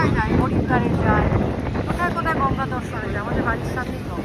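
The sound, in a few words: strong wind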